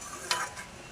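A spoon gives one short scrape while stirring a thick garlic curry that simmers in a pan, with faint bubbling beneath and no voices.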